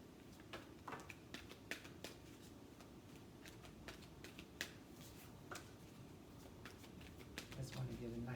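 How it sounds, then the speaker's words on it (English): A tarot card deck is shuffled by hand, giving a run of soft, crisp riffles and flicks at an uneven pace, close and faint against a quiet room. "Just want to get a nice little shuffle on the deck."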